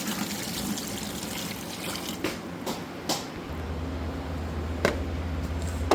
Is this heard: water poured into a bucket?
yes